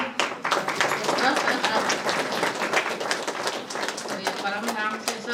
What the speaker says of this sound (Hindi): सब विदेशी ताली बजाओ